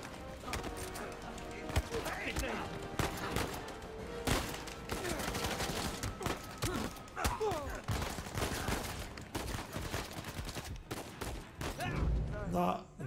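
Gunfire in the video game Uncharted 4, dense bursts of rapid shots and fusillades through a busy combat soundscape, steady and loud throughout, with a voice speaking over parts of it.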